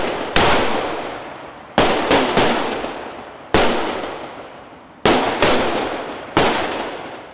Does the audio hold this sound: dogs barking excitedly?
no